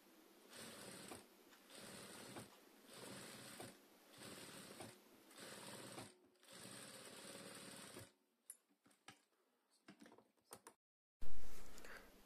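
A sewing machine stitches a helmet lining in several rhythmic bursts of fast mechanical rattling separated by short pauses, then stops and leaves a few quiet clicks and a soft thump at the end.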